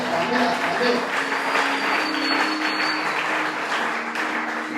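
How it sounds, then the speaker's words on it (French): A church congregation applauds steadily throughout, a dense, loud clapping that holds from start to finish and fades a little at the end. "Est-ce qu'on peut acclamer?"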